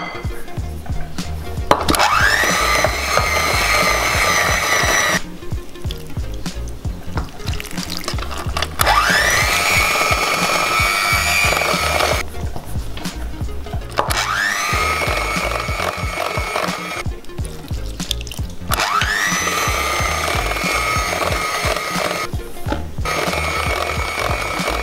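An electric mixer beats strawberry trifle cake batter in a home kitchen, its steady loud whir starting and stopping in four long bursts with short pauses between, without any talking.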